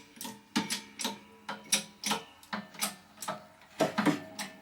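Hydraulic leather press driving a steel die down through a piece of leather, giving a series of sharp, fairly loud crunching clicks and bites in an irregular rhythm, with no voices.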